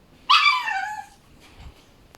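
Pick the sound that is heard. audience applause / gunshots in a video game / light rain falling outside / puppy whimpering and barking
puppy whimpering and barking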